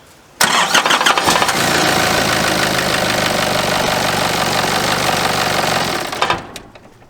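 A D22 diesel engine cranks over loudly and continuously for about six seconds, trying to start without catching. The whirring starter drone is close and alone, then winds down.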